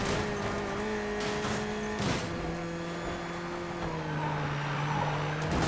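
Mercedes-AMG A45 engine in the racing video game Need for Speed Payback, a steady droning hum that shifts pitch as it changes gear partway through, loud and continuous with no speech.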